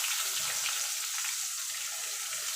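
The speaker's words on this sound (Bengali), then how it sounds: "এবার পেঁয়াজটাকে একটুখানি লাল লাল করে ভেজে নেব" Onion frying in hot oil with whole spices, a close, even hiss and crackle of sizzling that stays constant throughout with no voices.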